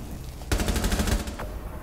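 Rapid automatic gunfire in Rainbow Six Siege, a dense burst of about a dozen sharp shots lasting under a second, loud and close, followed by one more isolated shot.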